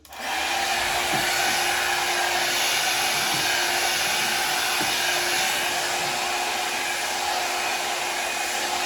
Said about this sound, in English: So the most you can do is your hot air brush.